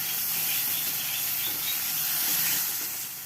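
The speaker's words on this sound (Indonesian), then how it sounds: "kita masukkan bumbu yang sudah diulek tadi ke dalam minyak yang sudah panas" Ground spice paste sizzles steadily in hot oil while being stirred, a continuous close frying hiss with no voices, cooked for a Sundanese green-chili besengek.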